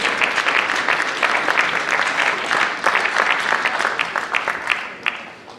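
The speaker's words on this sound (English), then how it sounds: "Please give them a round of applause for our middle school" An audience at a school celebration day at Carter G. Woodson Academy applauds its middle school students with sustained, dense clapping that stays steady for several seconds before tapering slightly, fairly close and full.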